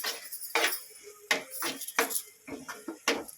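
A spoon scrapes and clinks against a cooking pan as ginger paste is stirred, giving several sharp, close metallic strokes in an uneven rhythm with short pauses between them.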